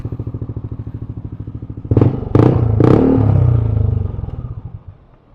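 Motorcycle riding on a road: a steady, pulsing engine putter up close, then a burst of loud clattering thumps and scrapes as the bike rolls on and the engine fades out, with no voices.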